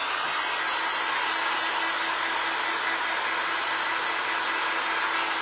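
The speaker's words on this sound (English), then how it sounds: "let's hit that with a dryer" A hair dryer blows on wet silver paint on a glass ornament, a steady, loud, unbroken whoosh of air that runs the whole time without any talking.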